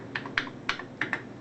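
Keys are pressed on the worn, partly broken keyboard of an HP 85 computer, five sharp clicky taps in an uneven rhythm, close and fairly clear with no talking.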